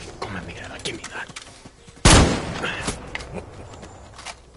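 Gunfire in the video game Far Cry 6: one sudden loud blast cuts through busy in-game background noise and dies away over about a second, with other game sounds before and after.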